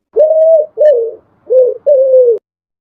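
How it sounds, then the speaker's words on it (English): A pigeon gives four loud, close, mellow coos in a steady sequence with brief pauses between them and nothing behind. "Pigeon."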